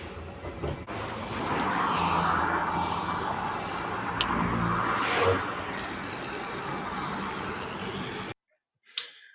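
A bus engine idling nearby, a steady low rumble with a broad, grainy mid-range roar that holds level for about eight seconds before cutting off abruptly, followed by a brief faint noise.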